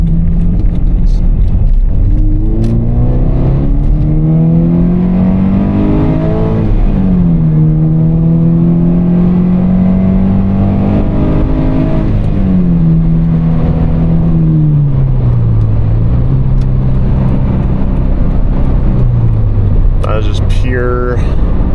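A Scion FRS with a Berk muffler delete exhaust accelerates hard up an on-ramp, its loud raspy engine note climbing through the revs, dipping on shifts and rising again, heard from inside the car with a voice occasionally over it.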